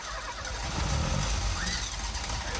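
A Fiat Tipo with a broken timing belt, its engine reset and control unit disconnected, cranks and catches roughly, a steady rough mechanical roar filling the clip at close range with no talk.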